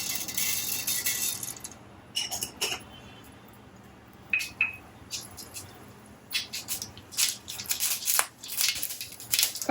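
Mustard seeds spluttering in hot coconut oil in a pan, sparse sharp pops and crackles in irregular bursts over a quiet background, growing busier toward the end.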